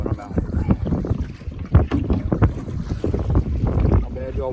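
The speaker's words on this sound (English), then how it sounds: "The waves are choppy, it is windy" Gusty wind buffets the microphone while choppy water slaps and splashes irregularly against a small boat, loud and close throughout.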